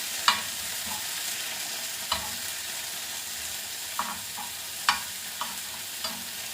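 Onions fry in a pan for a home-cooked anda shami, a steady close sizzle broken by several sharp scraping stirs of the spoon at irregular intervals.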